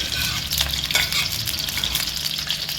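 Chicken pieces fry in ghee in a karahi over a low flame, giving a steady, close, dense sizzle with faint stirring clatter throughout and no talk.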